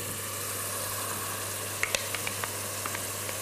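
Onions added to meat frying in a pan give a continuous sizzle over a low steady hum, with a few small ticks and pops partway through.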